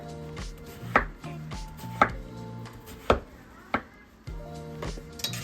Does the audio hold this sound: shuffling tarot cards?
no